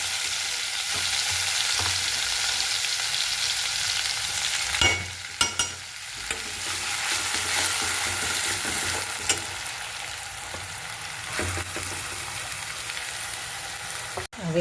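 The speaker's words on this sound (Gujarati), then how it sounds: "હવે તેમાં હું તેલ નાખ્યું છે, હિંગ નાખી, આ મરચાં નાખી દેવાના." Green chillies frying in hot oil with asafoetida crackle and sizzle steadily for a long stretch, with occasional stirring scrapes and pops.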